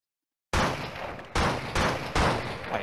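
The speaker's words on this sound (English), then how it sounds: "Keep shooting it up into the sky" Gunshots fired into the sky in the video game Blood and Bacon, four loud separate blasts roughly a second apart, each with a decaying tail, after a moment of silence.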